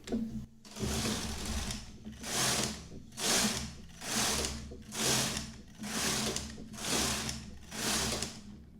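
Knitting machine knitting eight rows on a cable-look rib stitch, the carriage sliding across the needle bed in about eight rhythmic swishing passes, close and clear, with no voices.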